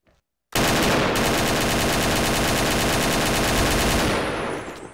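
Sustained automatic AK rifle fire in the XSHOT shooter game, a loud continuous burst of rapid shots lasting about four seconds after a brief silence, then tapering off.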